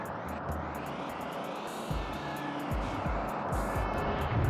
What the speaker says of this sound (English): Yep, that's the sound of a generator,